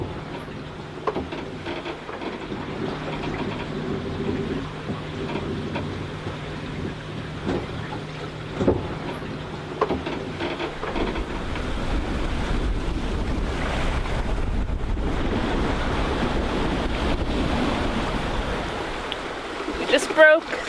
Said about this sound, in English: Have about 15 plus knots of wind behind us, and we're out for a sail in Varuna.